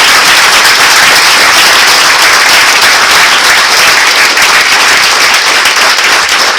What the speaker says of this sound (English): Can you guys give the loudest applause to your parents and to your mothers who deserve this?